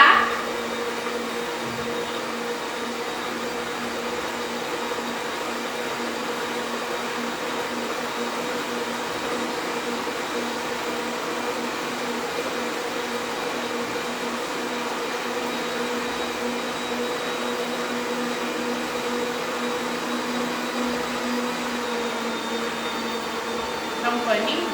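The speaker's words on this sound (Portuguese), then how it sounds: "Vou estar batendo aqui os meus ovos junto com o meu açúcar." Eggs beaten with sugar for a cake batter without a stand mixer, a steady droning mixer motor whirring evenly for the whole stretch at moderate loudness.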